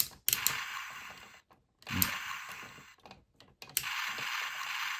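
A Transformers Dark Energon Megatron action figure's joint crackles as it moves through a detent, giving three short bursts of gritty ratcheting clicks separated by quiet pauses, close and alone.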